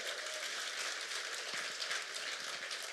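An audience claps throughout at a motivational business meeting in Roorkee, Haridwar, a dense, fairly quiet patter of many hands without pause or voices.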